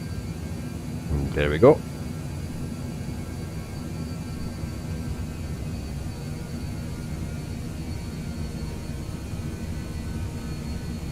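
Airliner jet engines at takeoff power in Microsoft Flight Simulator 2020, a steady broad roar held throughout, with a brief voice speaking early on.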